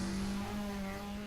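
Car engine revving and accelerating in the racing video game The Crew, a steady loud drone with a strong low tone held throughout a brief burst, no voices.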